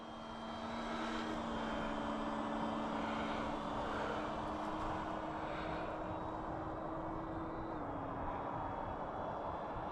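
FMS Yak 130 model jet flying over an airfield, its steady turbine whine holding loud and close for nearly the whole stretch, with a slight pitch drop near the end as it passes.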